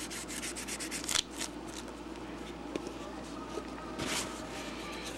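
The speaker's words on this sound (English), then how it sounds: "Okay, now I'm sanding this back down" Wood is sanded by hand down to raw grain with steady, close, rhythmic rasping strokes, some sharper scrapes mixed in, and no talk.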